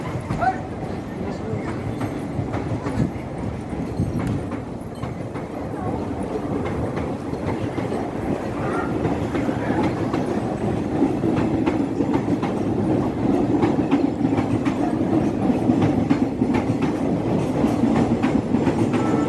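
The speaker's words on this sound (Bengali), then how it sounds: "এটা পাতাল রেল মাটির তলা দিয়ে যাচ্ছে" An underground metro train rumbles past nearby, with rhythmic clickety-clack of wheels over rail joints and a low, steady roar that slowly builds over about twenty seconds.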